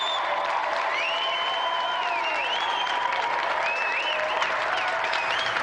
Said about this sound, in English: let's have another round of applause for a brilliant winner, Josie Lawrence